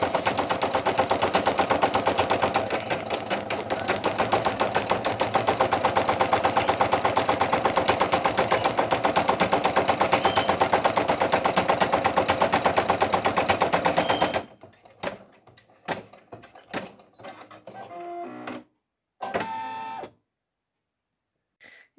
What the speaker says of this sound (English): Now doing the satin type stitch around her legs.